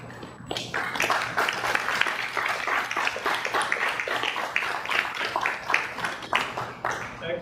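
A crowd applauds Chinese-American WWII veterans receiving the Congressional Gold Medal at a 2021 presentation ceremony, with dense, sustained clapping that swells quickly and keeps going for several seconds.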